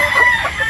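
Gamefowl broodstags clucking and calling at close range, a steady run of short overlapping fowl vocalizations over a brief moment with no talk.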